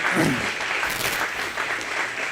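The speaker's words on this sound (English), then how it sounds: "huge round of applause for this group of kids" An audience at the Greene County Iowa Fair 2023 applauds a group of kids, a steady mass of clapping at moderate volume with a few sharper claps standing out.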